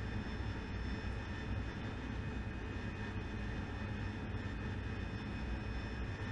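AV-8B Harrier jet engine in the DCS flight simulator, a loud continuous roar with a steady high whine, holding throughout without pause.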